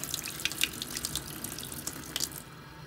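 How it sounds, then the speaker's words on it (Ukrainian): A plastic bottle is rinsed under a running tap, with a soft steady water stream, splashing and a few bright drips, faint and close, stopping abruptly near the end. "Мию пластикову пляшку я не для того, щоб набрати туди води чи якусь іншу рідину, а для того, щоб викинути"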